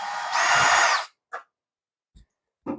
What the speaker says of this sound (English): What I'm going to do is I'm going to take these little screws out of here.